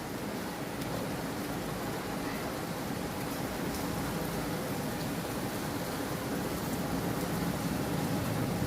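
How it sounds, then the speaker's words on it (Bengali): A heavy rain storm keeps up a soft, even hiss throughout, fairly faint and distant-sounding, with no voices over it. "অনেক বৃষ্টি হচ্ছে, অনেক অনেক।"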